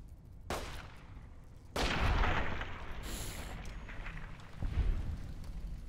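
Several gunshots from a weapon fired at a rad roach in Fallout New Vegas, a sharp report near the start and heavier booming blasts around two and five seconds, with rumbling game ambience between them and no talk.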